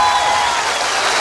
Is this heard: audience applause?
yes